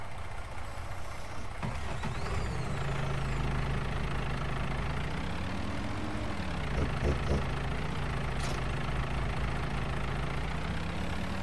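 A wheel loader engine in the video game Farming Simulator 19 runs steadily, a low droning hum that shifts pitch slightly as it revs, with a voice talking over it.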